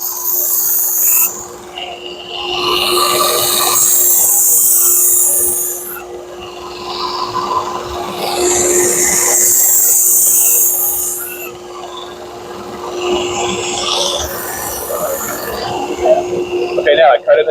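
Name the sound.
grinding the primary edge of a Shun Classic chef knife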